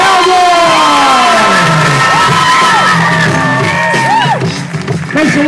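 A large crowd at an outdoor chainsaw juggling show on a tall unicycle roars with loud, sustained cheers, whoops and shouts, close and dense, tapering slightly near the end.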